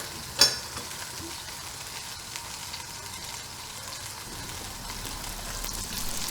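Olive oil and butter heating in a reused pan, a steady soft crackling sizzle with a brief louder clink near the start, continuous and fairly quiet.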